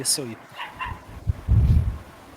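A dog barks a few times in the background while people talk, the short woofs near the end louder than the voices.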